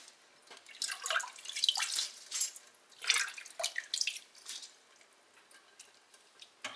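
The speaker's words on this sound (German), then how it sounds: "Waschen." Wild garlic leaves being washed by hand in water, giving irregular splashing, swishing and dripping bursts close by, with no talking.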